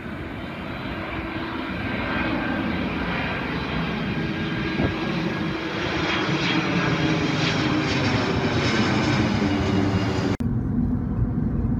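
A fixed-wing airplane drones overhead near Council Bluffs, Iowa, its engine a steady, fairly loud roar that swells slightly before cutting off abruptly near the end.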